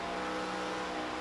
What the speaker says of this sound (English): You hear Logan actually lift just a little bit